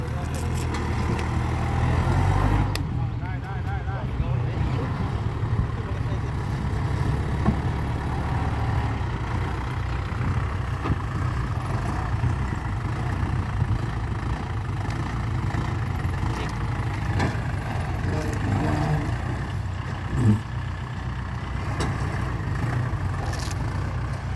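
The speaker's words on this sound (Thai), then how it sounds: "ปีนี้นี่รถไถนี่เหนื่อยครับ เพราะว่าน้ำมาเยอะมาก" Farm tractor engine chugging steadily through deep floodwater, a continuous low rumbling drone that stays loud and close for the whole stretch with no talking.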